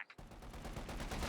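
Sustained .50 cal machine gun fire in Company of Heroes 2, a dense continuous burst of loud, rapid gunfire with no talking.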